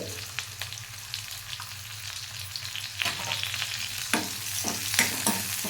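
A pounded paste of ginger, garlic, cumin and coriander fries in a pan with curry leaves, giving a moderate sizzle broken by scattered clicks and scrapes of stirring under a low hum.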